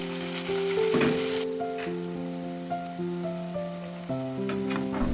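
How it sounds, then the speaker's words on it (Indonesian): Battered tempeh sizzling in hot oil over a medium flame, a steady close crackle and hiss running beneath tonal background music throughout, with a few sharper pops along the way. "Kemudian goreng tempe yang sudah diadon tadi."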